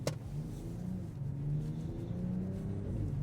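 SUVs, an Acura MDX Type S, an Audi Q8 S-Line and a BMW X5, accelerate hard side by side in a drag race, a sustained engine drone climbing in pitch with rising revs and no talking.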